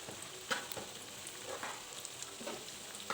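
Chicken and vegetable spring rolls frying in hot oil, a steady soft sizzle with faint crackles and occasional small pops, no voices.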